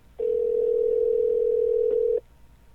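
A phone call rings out unanswered, heard as a single steady electronic tone lasting about two seconds, clear and close, with no voices over it.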